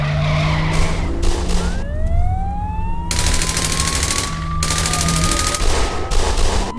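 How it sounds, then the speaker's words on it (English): Car chase playing on a television news broadcast, with tires skidding and squealing in long rising whines over a steady broadband roar of engines and crowd-like noise, fairly loud and continuous throughout. "This sounds like you're watching a car chase on the news."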